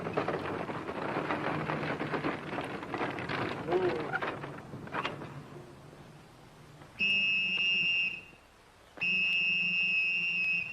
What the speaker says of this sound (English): stop blowing that whistle